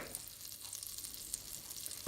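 Butter sizzles and crackles steadily in a large saucepan, a bright hissing fry with scattered pops, close and continuous with no voices.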